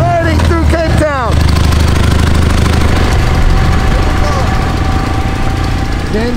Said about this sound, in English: Yes, we're on motorcycles, riding through Cape Town.